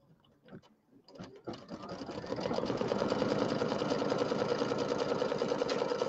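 An embroidery machine stitches out a placement line on fabric, starting with a few clicks, then settling into a fast, steady mechanical whirring chatter that holds loud and continuous.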